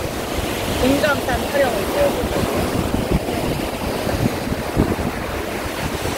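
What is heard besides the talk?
waves breaking on Chuam Beach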